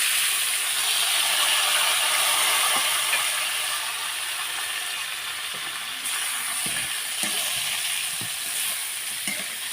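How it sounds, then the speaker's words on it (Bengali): Chopped onion frying in a pan for a village-style fish curry with vegetables, a steady loud sizzle with faint stirring clicks throughout, no talking. "এখন দিয়ে দিলাম পেঁয়াজ কুচি"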